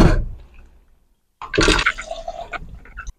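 Water splashes and gurgles into a blender of beans in a short burst, following a brief clattering knock, then trickles and sloshes more softly.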